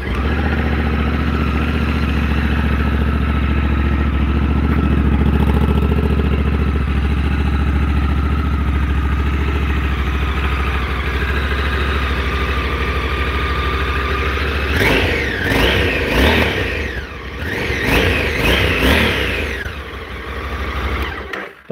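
A Honda motorcycle with its stock exhaust idles with a steady, loud, low burble for a long stretch, then is revved several times in quick sharp bursts near the end before dropping back to idle.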